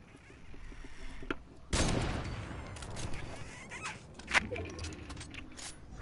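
Rapid gunfire while fighting an enemy in the video game Fortnite, a loud burst of shots opening partway through and continuing as a busy, crackling mix with a sharp report near the end.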